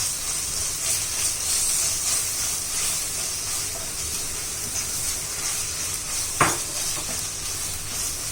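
Soaked masala fries in a hot pan for Kerala-style karimeen pollichathu, a steady close sizzle and hiss under stirring, with one sharp utensil clack against the pan.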